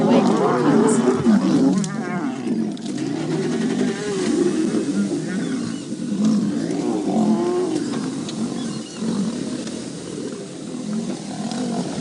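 Male lions brawl near a pride with a lioness and cubs on a safari, letting out loud rough roars and snarls that build and fade continuously, with a vehicle engine and voices in the background.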